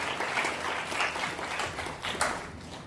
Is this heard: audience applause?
yes